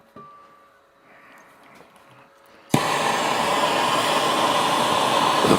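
A torch flame roars on loudly and steadily after a quiet stretch, heating a steel stud to temper a spring on a Sentinel steam waggon injector tap repair.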